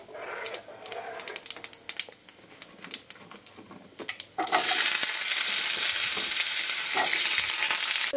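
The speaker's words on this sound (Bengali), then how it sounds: "তো দেখো এদিকে আমার আলু ভাজা হয়ে গেছে।" Potatoes frying in oil: the first half has scattered clicks and stirring taps, then a loud, steady sizzle bursts in and continues to the end.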